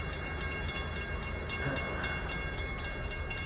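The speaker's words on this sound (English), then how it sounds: "So the train pulled up far enough for the gates to go down." A train draws up and idles at a level crossing with the gates lowered, a steady low rumble with no sharp changes, heard at a moderate distance.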